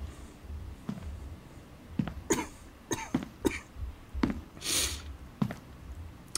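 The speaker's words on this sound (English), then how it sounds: "So expect a certain amount of sniffling and a little coughing." A sick man coughs and sniffs repeatedly, several short bursts spread across the moment, close and moderately loud against a quiet background with no talking.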